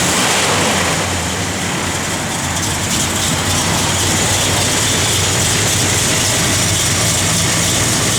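A 1968 Dodge Dart engine runs close and loud with a steady, heavy rumble and no talking throughout.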